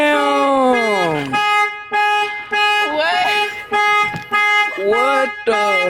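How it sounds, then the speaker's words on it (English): A car alarm blares in loud repeating bursts of harmonic tones, with short gaps and a falling-pitch sweep at the start, heard up close after a break-in. "stop the alarm"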